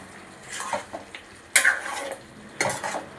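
Chicken curry with homemade garam masala being mixed in a pan: a few close, irregular metallic scrapes and clinks of a spoon against the pan over a light sizzle, no voices.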